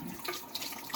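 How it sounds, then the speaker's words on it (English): Running water rinses a sharpening stone, a Shapton 5K pink waterstone, in a brief, quiet splashing and trickling burst with a few sharper spatters. "Wash it all off."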